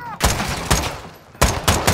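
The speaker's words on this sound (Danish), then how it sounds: "Jeg kom til at skyde på os." Gunfire in Call of Duty: Modern Warfare 2: four or five loud, sharp bursts in quick succession, with two close together near the end.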